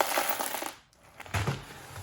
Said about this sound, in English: And these are the crumbs from it